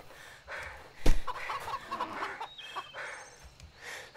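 Chickens in the video game Chkn cluck and chirp in a steady, moderately loud stream, with one sharp smack partway through and faint electronic tones near the end.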